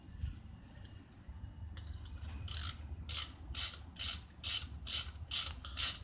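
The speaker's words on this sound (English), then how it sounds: "just run it through and chase some threads" Tap and die chasing threads on a bolt for an E30 car, with WD-40 on the threads: a series of loud, close, evenly spaced ratcheting clicks, one after another, alone with no voices.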